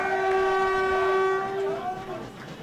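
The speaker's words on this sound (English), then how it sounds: "And there's the final siren." A loud, sustained final siren blares steadily for about two seconds at the end of an Australian football match, then fades, with crowd noise underneath.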